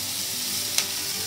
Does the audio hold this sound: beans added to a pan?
yes